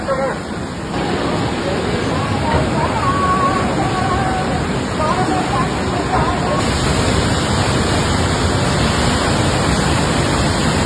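Alaknanda river in flood at Badrinath, its water surging into the temple grounds, roars as a loud, unbroken rush of torrent noise, with faint crowd babble blended underneath.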